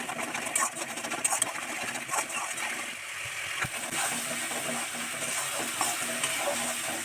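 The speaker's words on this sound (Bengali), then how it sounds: "আমার মশলাটা কষানো হয়ে গেছে।" A spice paste for a coconut fish curry with sarpunti fish and whisked yogurt added is being stirred and fried in a pan, giving a steady close sizzle with scraping stirs.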